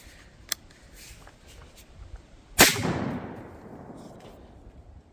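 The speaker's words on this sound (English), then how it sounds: "So we're going to hit this with 1 load of BuckShot." A shotgun fires a single load of buckshot into two 2x6 boards, one sharp loud blast followed by a decaying rumble, with a small click-like pop a couple of seconds before it.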